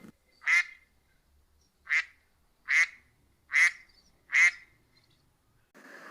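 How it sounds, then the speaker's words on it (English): Duck quacking in five separate loud, close calls spaced about a second apart, with quiet gaps between and no other sounds. "Ducks quack."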